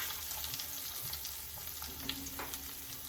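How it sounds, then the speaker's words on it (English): A whole onion hitting melted butter in a pan, giving a soft, continuous low sizzle with a few faint clicks and no talking, fairly quiet throughout. "I'm just melting a little butter, and then I am going to add one whole onion."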